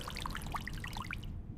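Freezing water pouring and splashing in a short, continuous trickling burst with bright droplet sounds, fading out near the end.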